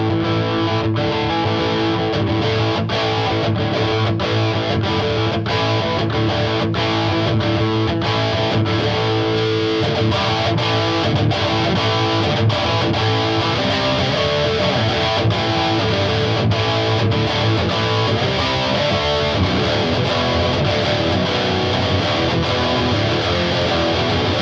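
A distorted electric guitar played through an EVH 5150 III 50W amp with gain at about halfway, giving a continuous dense crunchy tone with rhythmic chugging strums, loud and up close throughout with no talking.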